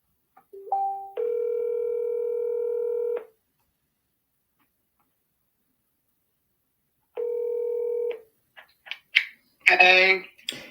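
A telephone handset sounds a short beep, then a sustained dial tone of a couple of seconds, a later shorter tone, and faint keypad clicks before a voice briefly speaks.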